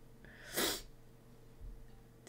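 A fan in the horror video game Aka Manto lets out a single short sneeze, a brief burst near the middle of a quiet stretch with a faint low hum beneath.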